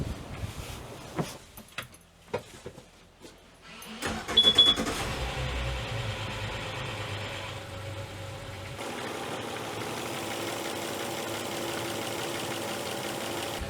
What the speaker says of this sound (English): Now I'm going to crank the engine for 30 seconds or so